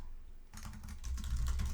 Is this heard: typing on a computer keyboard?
yes